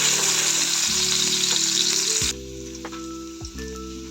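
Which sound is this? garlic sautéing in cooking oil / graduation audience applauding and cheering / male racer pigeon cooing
garlic sautéing in cooking oil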